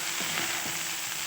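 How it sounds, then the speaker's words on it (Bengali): Pasta being stirred through soy sauce and tomato sauce in a frying pan, giving a steady close sizzle with soft scraping strokes throughout. "টমেটো সসও দিয়েছি, দিয়ে ভালো করে মিক্স করে নিতে হবে।"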